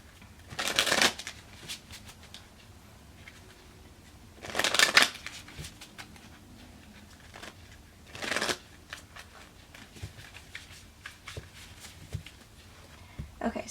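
A tarot card deck being shuffled in three separate bursts, each a crisp riffle of flicking cards, heard close and alone, with quiet handling and faint room noise in the pauses.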